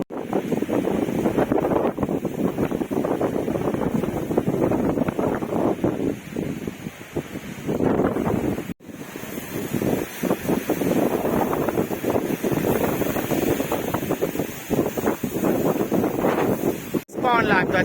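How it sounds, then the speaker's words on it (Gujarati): Strong wind gusts across a hillside outdoors near a village in the Amliya hills, roaring loudly and continuously into the microphone with heavy buffeting, while people talk at times underneath. "એકદમ મસ્ત પવન આવતો છે"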